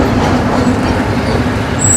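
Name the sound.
old Soviet-style electric train (elektrichka) in Bulgaria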